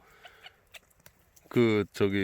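After a few faint taps, a chicken lets out two loud, close squawking clucks in quick succession.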